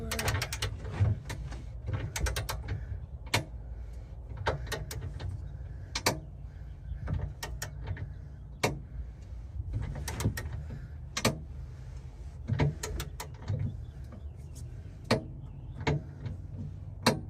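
Torque wrench tightening the bolts of an Andersen Ultimate fifth wheel hitch during an RV install, giving a string of small sharp clicks and ticks at irregular intervals over a low background hum, fairly close and moderately quiet.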